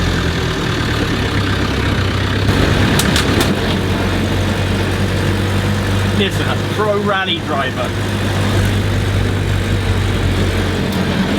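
A Land Rover Lightweight rolls around a track at about 30 km/h, its engine a constant low drone filling the cabin while someone talks over it throughout.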